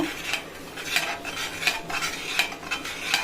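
A spoon scrapes and stirs around a pot of pea masala in a steady repeating rhythm, close by, with soft metallic clinks on each pass.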